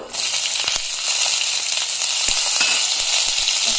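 A steady, loud sizzle of onion and green chili frying in hot oil, close up, with a few soft stirring knocks underneath.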